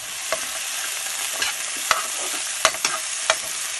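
A ground spice mixture, pounded in a mortar and pestle, fries in a pan for Chicken Hyderabadi curry, a constant close sizzle broken by sharp scraping taps of stirring, no voices.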